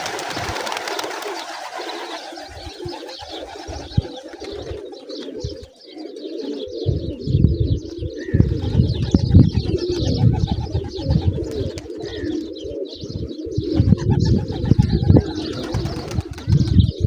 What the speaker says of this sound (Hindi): ये आप कबूतर देख रहे हैं